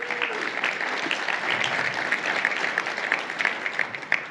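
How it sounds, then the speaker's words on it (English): Keynote audience applauding a conference sponsor, a fairly faint, even patter of many hands clapping throughout, with a few sharper individual claps near the end. "so a round of applause for them."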